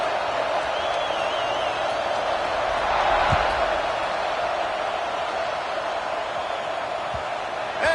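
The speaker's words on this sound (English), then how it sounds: "this crowd is buzzing after that last score" A packed stadium crowd buzzing at an NCAA football video game, a broad steady murmur that swells briefly around mid-clip with a few faint whoops and thumps, and no clear talk.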